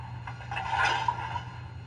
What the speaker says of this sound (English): That's when the coupler clanks together